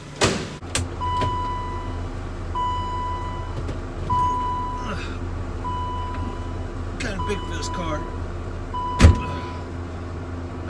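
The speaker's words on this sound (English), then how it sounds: "I hate that beeping noise." Repeated chime-like beeps sound inside a BMW E30 car, a steady tone pulsing every second or two under engine and road hum, with someone speaking briefly.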